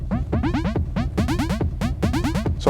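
Electric thump preset on a DFAM drum synthesizer in a portable techno setup, a rapid, continuous pattern of resonant pitched drum hits bouncing in a busy rhythm, close and steady.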